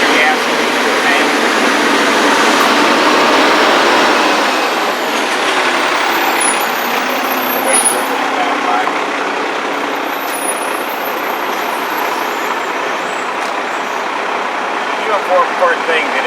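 Electric-start Vanguard 31 hp engine running on a hot-water pressure washer, a loud, steady broadband roar that continues for the whole stretch with a faint high whine.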